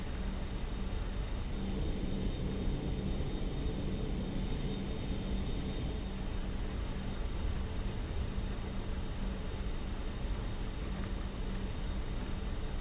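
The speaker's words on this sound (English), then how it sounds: "Looks like we're taxiing at Mach." Avro RJ85 regional airliner taxiing in a flight simulator, heard as a constant broadband engine whine and rumble with a steady low hum, unchanging and fairly close, with no talk.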